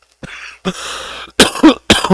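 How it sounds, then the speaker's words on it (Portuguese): A burst of harsh coughs up close, several rasping hacks in quick succession with brief gaps, ending in a couple of sharper coughs. "Desculpa a tosse."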